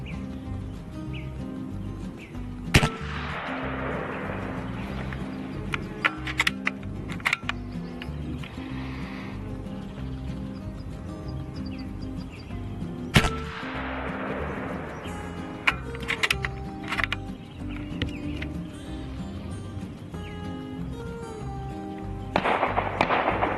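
A .30 caliber PCP airgun firing at an outdoor range, two sharp loud cracks several seconds apart, each with a short trailing echo, over steady background noise, bird chirps and several smaller clicks.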